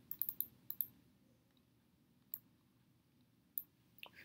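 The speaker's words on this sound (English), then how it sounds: "I'll just select, double click on the data" A computer mouse gives quick, crisp clicks that come in a tight opening cluster and then a few isolated double clicks, all very close and quiet against near silence.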